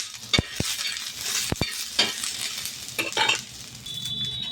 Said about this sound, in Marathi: थोडंसं तेल टाकू म्हणजे कांदा आहे तो पटकन आपला फ्राय होईल.